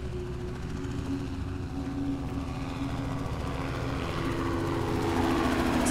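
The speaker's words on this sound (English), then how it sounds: "Why was there a helicopter?" A helicopter in a cosmic horror video game passes overhead, its rotor drone steady and loud and building slightly toward the end, with no voices.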